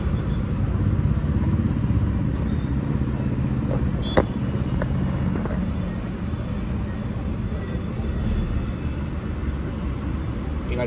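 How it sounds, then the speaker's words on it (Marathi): Fiat Linea car running on petrol just after starting, a steady low engine drone at idle heard close for the whole stretch, with one brief click partway through. "पेट्रोलवरती स्टार्ट झालेली आहे."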